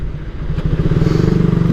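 A Raider 150 motorcycle fitted with a Tsukigi exhaust pipe idles up close, its loud engine settling into a fast, even thrumming pulse with no speech over it.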